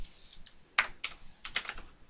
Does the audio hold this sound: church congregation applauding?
no